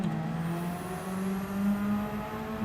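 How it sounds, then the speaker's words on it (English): A race car engine revs in Gran Turismo 7, a sustained, loud mechanical drone that rises in pitch and holds steady without a break. "I was too busy revving it."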